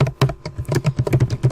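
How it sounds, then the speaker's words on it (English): Rapid typing of Python code on a computer keyboard, a close, loud stream of irregular key taps and clacks about ten per second, with no voices. "So what I'm typing here is the good way."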